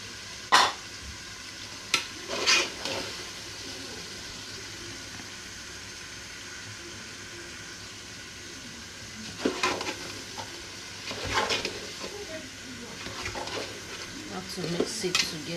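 Vegetables are stirred into a pot of cooking plantain porridge, with a soft simmering bubble underneath and a few sharp scrapes and clinks of a spoon against the pot, scattered near and fairly quiet.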